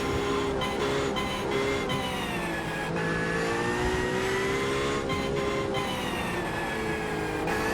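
A race car in a racing video game runs a lap of Indianapolis Motor Speedway, its engine droning loudly and continuously with rising and falling revs through the turns and no voices over it.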